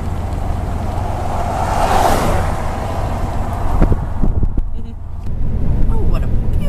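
A car rolling slowly along a road past buffalo in Yellowstone, giving a steady broadband road and wind rumble from inside the cabin, loud and continuous, with brief knocks near the end.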